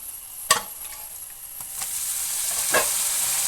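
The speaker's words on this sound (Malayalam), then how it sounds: "നമ്മളിതൊന്ന് ഇളക്കിയിട്ട് ബീഫ് ഇട്ട് കൊടുക്കുകയാണ്" Beef added to a hot pan with half a teaspoon of black pepper and stirred for a Kerala-style beef roast, giving a continuous hissing sizzle with a few sharp clinks and stirring scrapes, close and loud, no talk.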